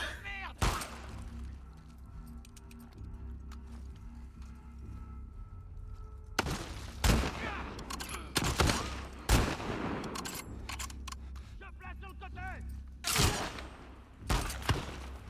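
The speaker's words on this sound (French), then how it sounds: "il y en a un qui me tire dessus" Gunfire in The Last of Us Part II, sharp loud shots scattered through the clip, some clustered in quick bursts, over a low game ambience.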